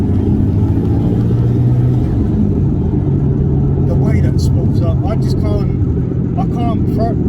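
A 487 bhp Subaru Impreza WRX STI with a 2.1-litre stroker turbo engine, heard as a loud, steady engine drone with the turbo building up, while people talk over it.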